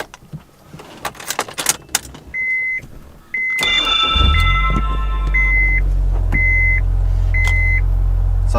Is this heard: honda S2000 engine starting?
yes